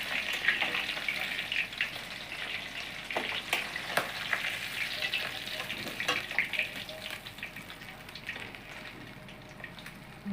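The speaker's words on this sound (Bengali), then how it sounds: "মাছটা দেখো সুন্দর ভাজা হয়ে গেছে" Soft bacha fish being fried in oil in a home kitchen, a moderate sizzle with scattered pops and clicks from lifting the pieces out, fairly close and without talk.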